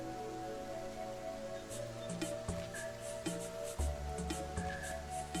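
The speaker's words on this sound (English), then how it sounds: "We like the sound of the rain." Rain falls in the cozy survival game Solarpunk as a soft, steady hiss of drops on surfaces, sitting quietly beneath louder background music with plucked melodic notes.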